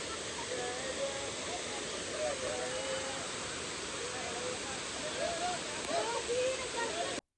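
A steady, dense roar of falling water from a hillside waterfall in Kannur, Kerala, fills the whole stretch with unbroken rushing hiss and no clear breaks.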